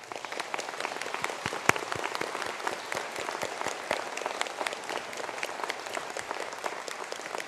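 Graduates at a college conferring ceremony receive a round of applause from a large hall audience: many hands clapping in a steady, sparkling patter, moderately distant and unbroken by talk.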